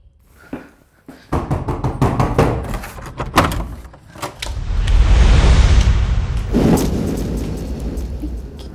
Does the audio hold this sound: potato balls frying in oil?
no